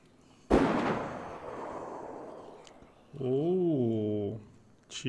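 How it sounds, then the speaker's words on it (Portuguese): A single loud gunshot in the video game DayZ rings out, followed by a long, rumbling echo that fades, then a brief wavering tonal sound. "Tiro aqui em Zelena, hein,"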